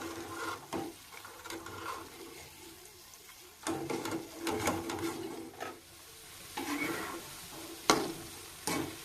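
Homemade tiffin food roasting in a pan, giving a soft crackling sizzle with intermittent stirring and scraping bursts, fairly quiet, with no talk.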